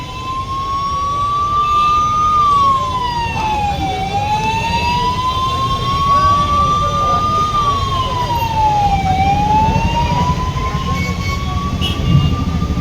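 An ambulance siren in Tamil Nadu wails loud and steady, its pitch rising and falling slowly through two full cycles over a constant low rumble of traffic, with no talk over it.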